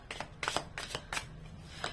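A deck of oracle or tarot-style cards being shuffled by hand, close and crisp, in several quick riffling bursts spaced about half a second apart.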